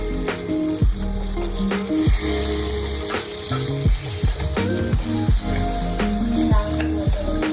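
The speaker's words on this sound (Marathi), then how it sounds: "आता आपण टाकणार आहे टमाटर चॉप केलेले टमाटर" Chopped tomatoes tipped into sizzling spices in a pan for dal kanda curry, loud close sizzling broken by repeated clattering knocks and scrapes of a spoon, with no talking.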